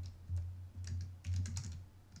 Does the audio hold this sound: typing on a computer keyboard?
yes